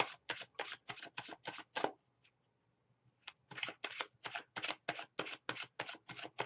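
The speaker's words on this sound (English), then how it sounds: "I think we're pretty well shuffled here." Tarot cards riffle-shuffled in rapid crisp bursts, a brief pause with one soft tap around the middle, then more quick riffling, close and clear with no talking.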